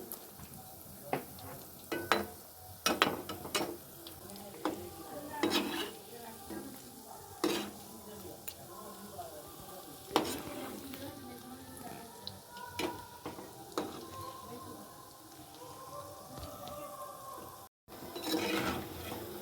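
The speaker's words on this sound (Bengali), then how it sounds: "এটা কিন্তু বেশি জোরে জাল দিলে কিন্তু পুড়ে যাবে, তাই আস্তে আস্তে জাল দিয়ে আমি ভেজে নিচ্ছি।" Fish roe fritters fry slowly over low heat in a pan, giving a soft, quiet sizzle broken by intermittent scrapes and clinks of a utensil against the pan, close by and with no talking.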